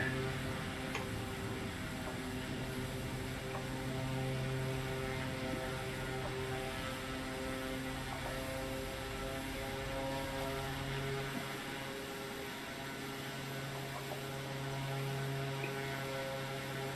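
A propeller bush plane engine hums steadily at idle in flight, a constant droning tone from inside the cabin with a faint ticking texture and no talking.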